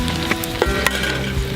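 Bacon and breakfast-roll filling frying in a pan over a campfire, a steady close sizzle with crackling pops and occasional scrapes as it is stirred.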